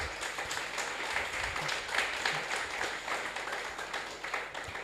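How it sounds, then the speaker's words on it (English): Applause for the operator of a Lagos State government rice mill at a rice contract listing event in Lagos, a steady wash of clapping from a gathered audience lasting several seconds at moderate level. "He deserves a round of applause."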